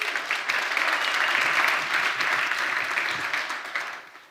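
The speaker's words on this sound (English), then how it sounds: "like one more round of applause maybe for the incredible pitches we heard this morning" Steady applause from an audience at a venture investing conference session, dense and even for about four seconds before fading out.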